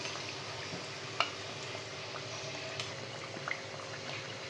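South Indian dal vadas deep-frying in hot oil, a dense, even bubbling sizzle throughout with a few faint clinks, no talk.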